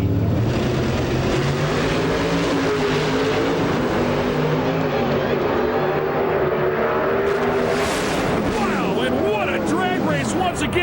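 Ford and Chevy Pro Stock drag cars race at an IHRA event, engines roaring loud and continuous with rising pitch as they accelerate, under a commentator's voice.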